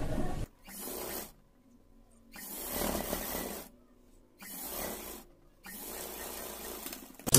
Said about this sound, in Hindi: इसको यहाँ दोनों को सेंटर में लाते हुए इसमें सिलाई लगाएंगे सिलाई